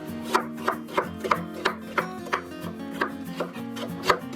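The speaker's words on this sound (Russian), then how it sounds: "И также соломкой режу репчатый лук." An onion is sliced into strips with a knife on a cutting board, giving about a dozen evenly spaced, crisp, close chopping taps in a steady rhythm.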